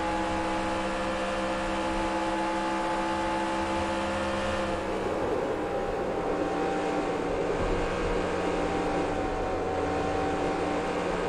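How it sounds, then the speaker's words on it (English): Race truck engine in the NASCAR Racing 2003 Season game at Auto Club, a continuous loud droning hum whose tone changes midway as the throttle is worked, no voices. "You can hear me working that throttle."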